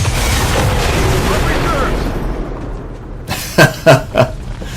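A video game explosion: a loud, sustained rumbling blast that slowly fades, followed by three sharp booming bursts in quick succession.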